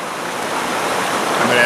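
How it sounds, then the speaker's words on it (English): Oil pours into a large mixing bowl for cinnamon pull-aparts, a soft steady liquid stream that stays fairly even and builds slightly toward the end, close by. "To that, I'm going to add 1/3 of a cup of oil."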